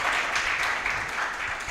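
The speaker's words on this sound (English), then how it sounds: "Please give another round of applause." Sustained audience applause fills a benefits launch event, a dense wash of many clapping hands held at steady loudness from start to finish, with no break or voice rising above it.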